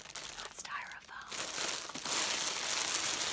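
Packaging crinkles and rustles while a wig is unboxed, with soft rustling early on giving way to steady, close plastic crinkling and a faint voice in the background.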